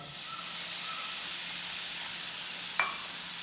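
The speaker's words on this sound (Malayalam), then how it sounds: "അതിലേക്ക് നമുക്ക് കുറച്ച് വെള്ളം ഒഴിച്ചു കൊടുക്കാം" A steady, even hiss of steam and sizzling from water poured into hot roasted semolina in a pan, with one faint clink near the end.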